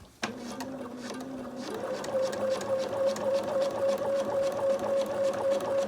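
Sewing machine running steadily as it stitches along a pants back pocket and yoke, a continuous close, even mechanical whir that starts abruptly and holds without pause.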